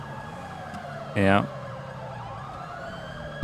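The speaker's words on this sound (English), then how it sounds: "Oh, I hear a siren." A police siren in GTA 5 sounds through the whole stretch, its rising and falling wail over engine hum, broken by a brief burst of a voice midway.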